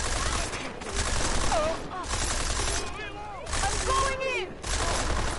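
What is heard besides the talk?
gunfire in Deus Ex Mankind Divided video game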